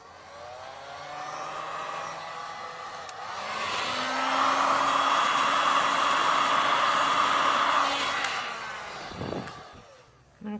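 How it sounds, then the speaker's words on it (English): A heat gun blows steadily on a resin coaster, its whirring hiss rising after a few seconds, holding loud and even for several seconds, then cutting off near the end. "Heat gun."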